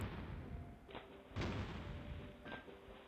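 Battleship shells striking and glancing off armor plating in a naval strategy video game, heard as three dull thuds spaced about half a second to a second apart over a steady low rumble.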